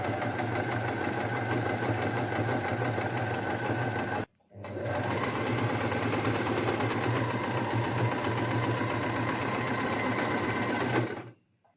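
A sewing machine stitches the hem of a petticoat in two long, steady runs of rapid mechanical whirring, broken by a short pause, loud and close with no talking.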